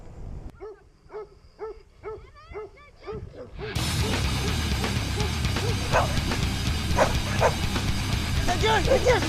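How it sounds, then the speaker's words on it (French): A loose dog barks in repeated sharp bursts, close by, with yips and whimpers, then a loud steady rush of wind or traffic noise takes over while the barking continues faintly underneath during a bicycle trip. "Mais tu fais quoi le chien là?"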